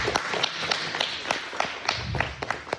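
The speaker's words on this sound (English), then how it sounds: "So can we give them a round of applause?" Scattered clapping from a small audience at a workforce training centre, sharp separate claps in an uneven rhythm, fairly close and moderately loud, honouring training candidates.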